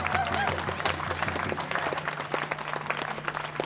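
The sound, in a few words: applause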